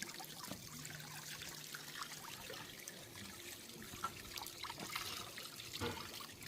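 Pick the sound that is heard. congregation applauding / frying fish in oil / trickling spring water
trickling spring water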